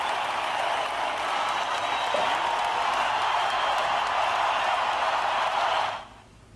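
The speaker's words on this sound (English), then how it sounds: "Let's see if I can rustle you up a round of applause." A round of applause, a dense, steady wash of clapping that holds at an even level for about six seconds, then cuts off abruptly.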